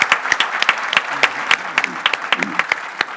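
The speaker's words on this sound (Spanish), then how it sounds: "Y yo creo que se merece un aplauso." An audience at a talk in Spain with the artist Rafael Canogar breaks into applause, a dense run of claps of steady, moderate loudness carrying on through the whole stretch with no voices over it.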